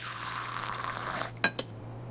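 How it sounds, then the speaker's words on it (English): Milk pours into a glass in a home kitchen with a soft, continuous trickle, ending in two quick glassy clinks and then near quiet. "I'm pouring some milk."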